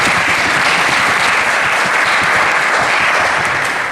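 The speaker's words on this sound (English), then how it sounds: "Give our staff a big clap." Loud, sustained applause from an audience at a City of Sydney public forum, a dense wash of clapping that fills the whole stretch without a break.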